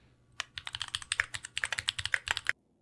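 A mechanical keyboard in a video game is typed in one quick burst of about two seconds. The crisp, close keystrokes come fast and alone, then stop.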